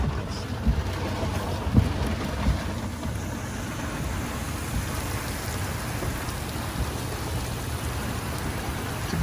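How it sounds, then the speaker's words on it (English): Steady heavy rain drums on a Ford F-150 Lightning pickup during a Myrtle Beach thunderstorm, a dense continuous hiss with a few louder drops and thumps near the start, close and enveloping. "It's been raining 5 minutes."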